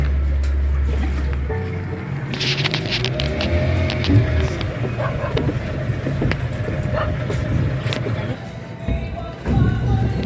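An outrigger boat (bangka) engine rumbles steadily at a pier in the Philippines, with water sloshing and scattered clatter nearby.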